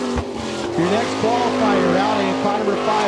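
A sprint race car at Attica, Ohio runs a qualifying lap, its engine note rising and falling through the turns alongside a brief tire squeal, with an announcer's voice over the track.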